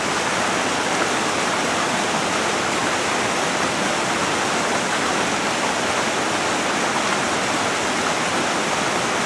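A waterfall cascading down a World Heritage site in the Balkans, a loud, dense, unbroken roar of rushing water heard close and alone for several seconds.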